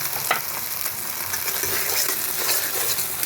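Poppy seed paste fried with green chillies, salt and turmeric in hot oil in a pan, a steady close sizzle with occasional stirring scrapes and no talk.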